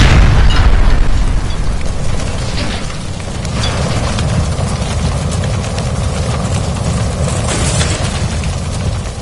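A gas line blown apart by gunfire in L.A. Noire, a loud, roaring blast rumble that holds heavy and steady for the whole stretch, with crackling debris over a deep low drone.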